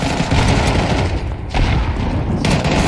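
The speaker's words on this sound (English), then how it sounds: "Oh, the double nade frag from Bondik!" Two frag grenade explosions in a Counter-Strike match, loud dense blasts with a dip between them and heavy gunfire-like crackle throughout.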